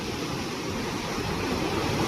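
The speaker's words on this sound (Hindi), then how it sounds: "पानी बहुत हाई प्रेशर से जा रहा है यार।" Water rushes under high pressure through a barely raised gate at Kota barrage on the Chambal, a steady broadband roar with no pauses, loud and close throughout.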